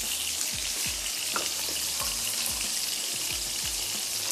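Masala and kebabs fry in a karahi with a dense, continuous sizzle and a few soft bubbling pops. The sound is steady and close, with no talking.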